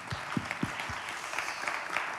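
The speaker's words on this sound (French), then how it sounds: "On peut l'applaudir, ouais." An audience in a theatre claps for an artist at a season presentation. The applause is short, fairly faint and spread out, with a little low murmur beneath it.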